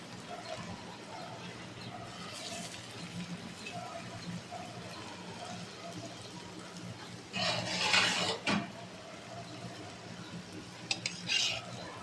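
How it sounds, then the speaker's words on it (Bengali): Banana kofta fritters fry gently in a pan over low heat, a soft continuous sizzle under occasional utensil clinks, with a brief louder crackling burst near the middle and another near the end. "এখন এগুলা ভেজে নিচ্ছি।"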